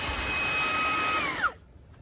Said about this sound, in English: So I'm quite happy with this little vacuum.